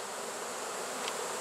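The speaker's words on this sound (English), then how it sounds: "Are you messing with the bees?" Many bees buzz around a bee tree in a steady, dense hum that stays even throughout, fairly quiet and heard alone.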